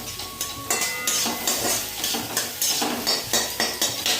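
Egg bhujia frying and being stirred in a pan, with a steady sizzle under repeated rhythmic scrapes of a spatula against the metal, close and fairly loud.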